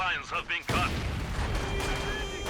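Mortar fire in the Company of Heroes 2 video game lands as a sudden heavy boom after a brief voice, followed by a sustained rumbling, crackling battle din that fades slowly.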